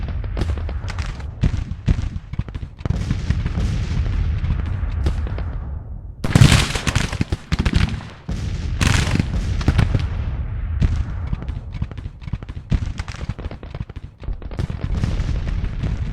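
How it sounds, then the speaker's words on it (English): Artillery in a Grand Tactician Civil War battle at First Manassas (Bull Run) booms loud and near in repeated, irregular volleys over a constant rumble of distant gunfire, with one especially heavy blast partway through. "His artillery has pounded me."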